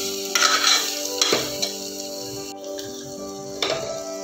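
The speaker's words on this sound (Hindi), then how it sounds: "डालेंगे हमारी ग्रीन चिली जो बची हुई है, और इसको एक बार फिर से डाल देंगे।" Green chilies frying in a pan while a Dahi Paneer dish is prepared, a low sizzle under several sharp scrapes and clinks of a metal spoon stirring against the pan.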